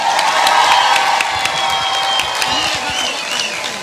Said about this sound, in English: So now we have to clap again